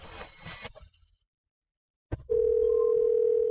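A steady, loud telephone dial tone rings out alone after a brief stretch of movement noise, a click and a moment of silence, as a call is placed.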